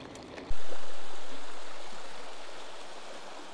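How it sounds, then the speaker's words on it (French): River water flowing steadily on a sunny outing, a broad continuous rushing wash that starts abruptly and stays loud and even with no talking. "Petite ambiance rivière."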